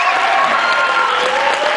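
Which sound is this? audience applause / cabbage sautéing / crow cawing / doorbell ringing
audience applause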